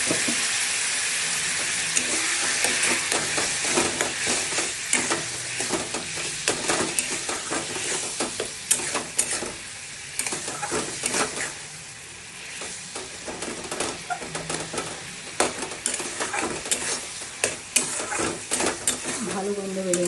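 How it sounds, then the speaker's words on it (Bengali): Paneer tadka in a pan, cooked with ginger and garam masala, as water goes in: a continuous close sizzle and hiss with frequent spoon scrapes and clinks against the pan. "জল অ্যাড করছে একটু।"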